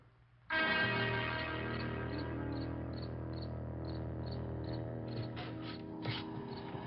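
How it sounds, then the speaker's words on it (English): Crickets chirp at night in an old horror film scene, a steady dense trill that starts abruptly and then holds, with faint pulsing chirps layered over a low constant hum. "Cricket."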